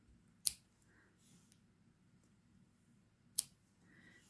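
Scissors snipping yarn strands for a crocheted scarecrow's hair, two crisp close cuts about three seconds apart in an otherwise quiet room.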